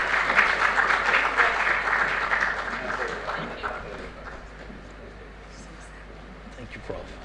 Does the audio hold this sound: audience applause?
yes